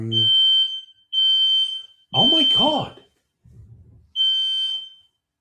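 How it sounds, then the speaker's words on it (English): A smoke alarm in a hallway sounds three long, shrill beeps with pauses between them; a person exclaims briefly in the gap and a faint murmur follows. "That's a smoke alarm in the hall."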